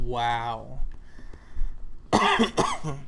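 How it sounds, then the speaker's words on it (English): A person coughs after a drink goes down the wrong way. There are a few sharp, close coughs, and a short spoken exclamation comes just before them. "that a sneeze? That was a cough."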